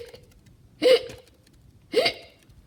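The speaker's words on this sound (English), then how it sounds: "The hiccups stayed." A cartoon ghost hiccups twice, each sharp voiced hic about a second apart, loud and close over near silence.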